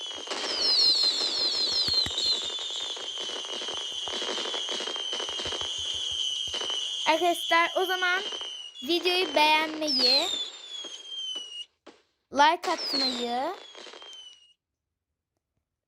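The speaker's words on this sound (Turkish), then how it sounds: "Böyle biraz havai fişek yapalım." Dense crackling bursts of fireworks in the mobile game Fidget Toys 3D pop and whistle in rapid clusters, with a person talking over and between them.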